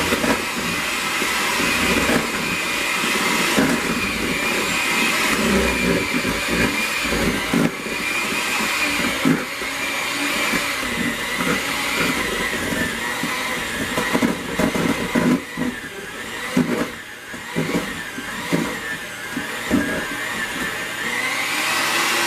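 Electric mixer whirring steadily through apple pie chess bar batter, a continuous loud motor drone lasting throughout with slight fluctuations in pitch and load.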